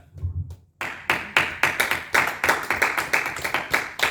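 A congregation claps in rhythm at a church service, with about a dozen sharp, evenly spaced claps ringing out loudly after a brief quiet pause.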